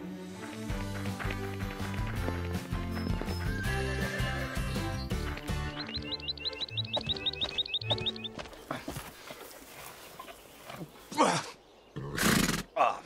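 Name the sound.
horses galloping and neighing in a cartoon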